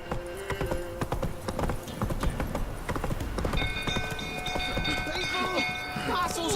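Horse hooves clip-clopping at a steady trot in The Witcher 3, close and rhythmic, with snorts and a whinny, other game sounds, and someone speaking briefly over them.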